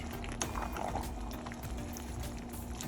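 Collard greens with smoked turkey bubble and simmer in a pot as they are stirred, a quiet, steady wet burble with a few soft clinks and splashes and no talking.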